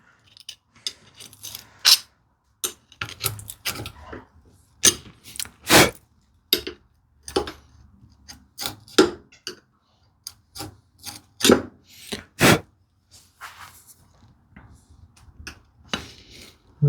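Irregular sharp wooden knocks and scraping strikes, close up, with pauses between bursts, as a hand tool chops into wood for a cupboard build.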